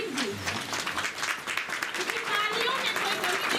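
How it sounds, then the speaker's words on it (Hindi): Crowd applause at a soldiers' honour ceremony, a dense patter of clapping from a gathered audience, with a voice speaking over it. "तालियों में कोई कमी नहीं बनाइए"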